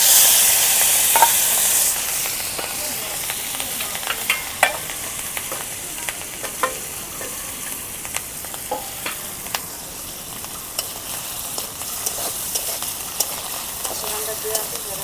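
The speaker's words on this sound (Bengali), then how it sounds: "এখন আমি মাছের ডিমগুলো ভাইজা নিই।" Fish roe frying in a pan for a silver carp curry with tomato and eggplant, a steady close sizzle with frequent stirring scrapes and ticks throughout, a louder burst of spitting oil at the start.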